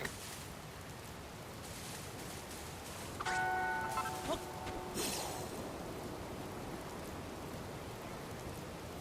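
Steady rain falling in the Dragon Quest Builders 2 video game, a continuous hiss throughout, with brief chime-like game tones over it in the middle.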